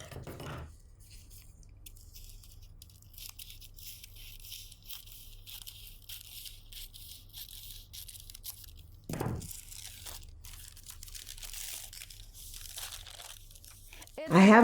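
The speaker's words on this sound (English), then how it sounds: "I cut the same piece from the second sleeve." Scissors cut through blouse fabric for a sleeve pattern piece, faint crisp snips and crinkles spread across a quiet stretch, with a louder rustle partway and a voice briefly at the close.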